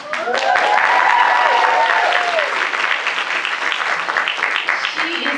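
A convention panel audience at New York Comic Con claps loudly and continuously, a thick wash of applause with a few faint voices and whoops mixed in near the start, holding strong to the end.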